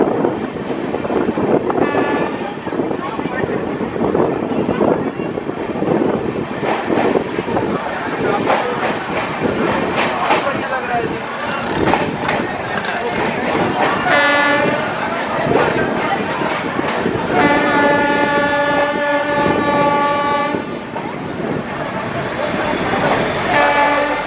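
The inaugural Amrit Bharat Express from Malda to Bengaluru pulls out of Rampurhat Junction. A loud, continuous rumble of wheels and carriages builds, with rhythmic clatter and a long sustained horn blast later on. Faint voices blend into the roar.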